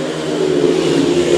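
Speedway motorcycle engines revving high together at a race start, a loud steady roar with no break throughout.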